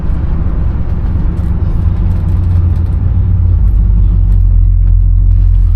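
A 1969 Buick Electra 225 on 22-inch wheels cruising down a road, heard as a loud, steady low rumble of engine and road noise from inside the car.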